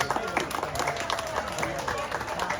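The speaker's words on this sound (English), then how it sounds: "Nice round of applause, folks." An audience gives a round of applause, fairly soft, scattered hand claps going steadily for a couple of seconds with voices talking over them.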